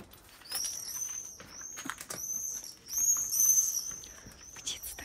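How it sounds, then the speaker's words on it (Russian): Birds sing outdoors along a street, with bright high whistled chirps and trills that come in several bursts over a soft background, fairly near and moderately loud. "Птица так поет."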